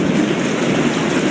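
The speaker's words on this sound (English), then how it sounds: "Thunder and lightning and rain" Steady rain in a thunderstorm on an off-road trail, a loud, even wash of noise with a low rumble underneath, continuous throughout without speech.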